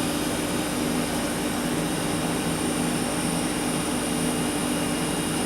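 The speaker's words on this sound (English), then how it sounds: "the compressor don't sound right. It's got an odd sort of tone to it." A faulty Zanotti refrigeration compressor runs with a steady, continuous mechanical hum and drone that holds loud and unchanging throughout, with no voices.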